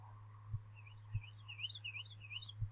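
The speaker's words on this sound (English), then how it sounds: "Oh, I hear birds." Faint bird chirps warble in a quick rising-and-falling series in the distance, over a low steady hum and a few soft thumps.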